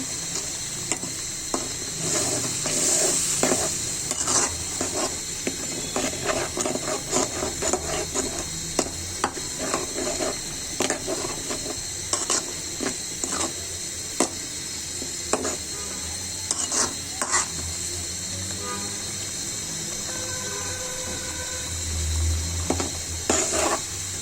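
Rui fish fries in a spicy masala in a pan while a spatula stirs and scrapes through it: a constant sizzle broken by repeated scraping and clacking strokes, busier early and quieter toward the end.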